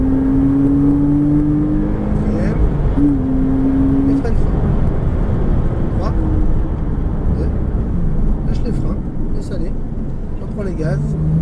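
A Porsche Cayman S engine pulls hard at full throttle on the Chenevières circuit, its pitch climbing and dropping with gear changes, loud and close inside the car while a voice talks over it.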